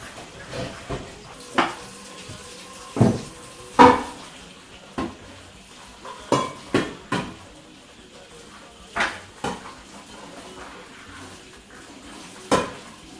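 Stainless steel pot parts being cleaned and scrubbed, heard as scattered clinks and knocks of metal against metal with quiet gaps between, moderately close and with no talk.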